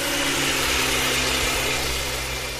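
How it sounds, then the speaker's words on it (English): A buzzing boat engine runs as a steady, close, humming drone with a strong low hum and a hissy upper layer, unbroken for the whole stretch and fading slightly at the end. "with the added distraction of buzzing boat engines"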